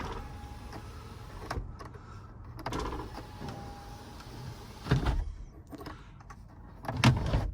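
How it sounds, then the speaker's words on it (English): A power sunshade motor on a 2020 Toyota Highlander Hybrid Platinum's panoramic moonroof hums steadily as it closes inside the cabin, broken by a few soft clicks and thumps near the end. "you can close the sunshade and close it all the way up in here"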